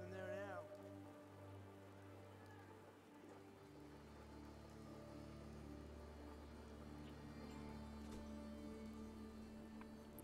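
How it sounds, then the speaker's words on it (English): Steady rain falls in the Fallout video game, a continuous broadband wash of patter laid over low droning game ambience and music tones, holding at an even level throughout. "I like the sound of the rain in this game."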